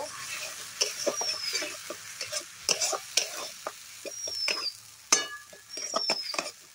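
Ground cumin and coriander kashano in a little oil for a vegetarian cabbage curry, with soft sizzling under repeated scraping and stirring taps of a spatula and a few faint squeaky tones, fairly quiet and without speech.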